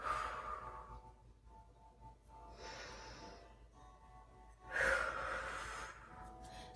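Breathing during a Pilates exercise for forward head posture: a few soft, drawn-out exhales and breaths spaced a couple of seconds apart, close and quiet in a calm room.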